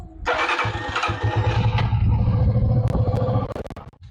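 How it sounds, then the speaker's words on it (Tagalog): An engine cranks and catches, revving briefly before settling into a low, steady idle that fades toward the end; the engine is hot and idling very low. "sobrang baba ng minor kasi mainit na yung makina"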